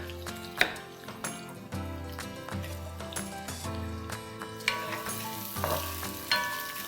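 Three long-sliced onions sizzle and fry in a pan while being browned, with steady crackling broken by the scrape and clink of stirring against the cookware.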